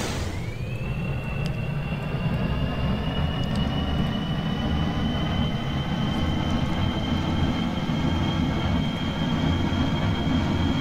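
A space shuttle's jet engine spools up in a video game: a rising whine climbs in the first second, then holds as a steady high tone over a loud, continuous low roar and rumble with no talking.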